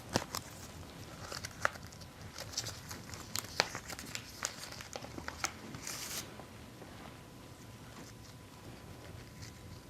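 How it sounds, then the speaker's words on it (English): A cucumber-scented sheet mask packet is unwrapped and handled close up, with sharp crinkling, tearing and rustling bursts scattered irregularly over several seconds before settling into quieter soft handling. "I'm gonna just put a sheet mask on you. This is cucumber"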